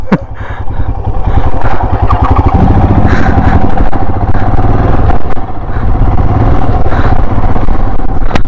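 A motorcycle engine revs loudly and continuously up close on a rough road toward a homestay, its mid-range drone steady with rattling clatter as it rides; brief voices sound over the engine.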